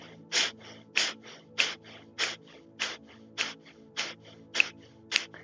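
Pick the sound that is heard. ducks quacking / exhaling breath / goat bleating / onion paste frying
exhaling breath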